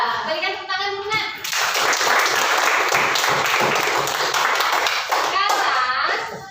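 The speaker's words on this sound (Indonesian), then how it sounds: "Berikan tepuk tangan dulu nak." Students in a classroom clap for a student group after its answer, a dense burst of hand clapping that swells quickly, holds steady for a few seconds and then fades, with a teacher's voice before and children's voices around it.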